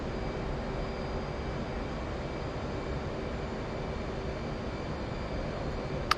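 Steady roar of a fast-moving aircraft in the flight simulator DCS, near-constant broadband engine and wind noise with faint tonal hums, heard alone without talk.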